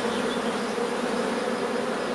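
A swarm of honeybees humming around an open hive in spring, a constant thick buzz from many insects close to the microphone, unbroken throughout.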